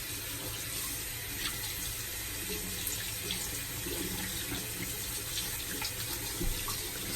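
Tap water runs steadily into a sink while shaving soap is rinsed off, a continuous close hiss and splatter with no talking.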